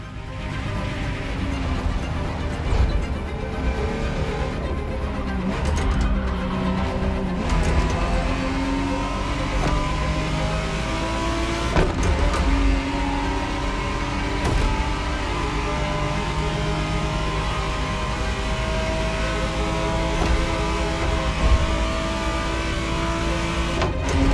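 A 1991 Ferrari Testarossa's engine in The Crew Motorfest video game revs and pulls through gear changes, a loud continuous drone rising and falling with sharp shift breaks, close and without talk.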